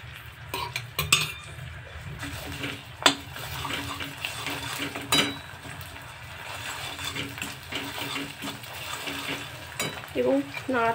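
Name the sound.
stirring ground ginger in a pan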